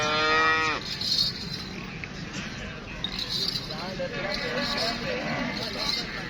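A pure Nili buffalo moos loudly and close by in one long call at the start, followed by farmyard noise and people talking.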